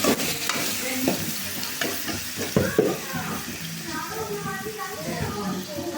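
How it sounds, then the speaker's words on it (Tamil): Tomato and onion sautéing in a pan with salt for a soya chunk gravy, a close sizzle broken by repeated scraping stirs and knocks of a ladle, with a voice talking over it. "இது ஒரு வதக்கு 5 நிமிஷம் வதக்குறோம்"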